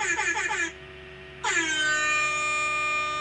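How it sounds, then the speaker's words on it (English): Two loud blasts of an air horn sound effect, a short pulsing honk then a gap of near silence, followed by a longer sustained blare that cuts off abruptly at the end. "Air horn for him."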